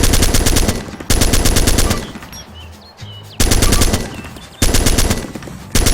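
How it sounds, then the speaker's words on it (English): Full-automatic gunfire on a shooting range in the video game Armed Assault 2: Operation Arrowhead, with three long, loud, rapid bursts separated by short pauses that carry quieter ambient noise and faint clicks. "The full auto mode fires bullets while the trigger is pulled until the clip is empty."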